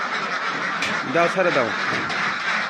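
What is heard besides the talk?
ducks quacking while being let out of their pen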